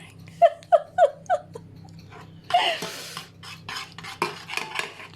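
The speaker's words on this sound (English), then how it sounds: "Oh, the pan's swirling around as I'm stirring." Spoon stirring in a loose pan that swirls on the stovetop while making hot cross buns, a quick run of four sharp metallic clinks, then louder scraping and rattling scuffs.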